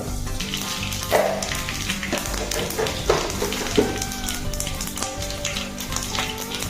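Panch phoron spices frying in hot oil for Chachindra Rai, with a continuous close sizzle broken by a few sharp pops and crackles, plus faint clinks and tonal background sounds.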